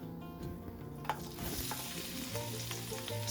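Sliced garlic frying in oil in a pan for beef fried rice, a steady close sizzle with a few stirring clicks and scrapes, no voices.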